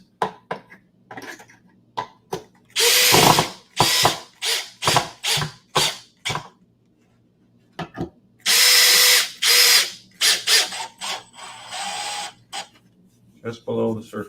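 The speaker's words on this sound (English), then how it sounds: "So now this, I'm just going to put two screws, one on this side and one on this side." A power drill drives screws into a drywall patch in a series of short, loud whirring bursts separated by pauses, with a person talking between them.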